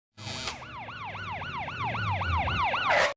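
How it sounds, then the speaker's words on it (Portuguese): A wailing cartoon siren, like a psychiatric hospital van arriving, sweeps up and down in about a dozen rapid, loud cycles over a low engine rumble, then cuts off abruptly. "para cortar o pelo que resta do Coragem, ele escuta a sirene que denunciava o fim daquela tortura."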